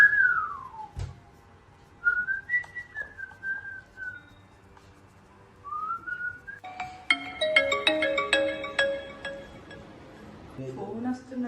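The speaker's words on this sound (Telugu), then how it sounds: "ఫోన్ వస్తున్నట్టుంది." A phone's incoming-call ringtone plays a bright repeating melodic pattern at close range after a stretch of whistling and quiet talk, cutting in suddenly and continuing loudly for several seconds.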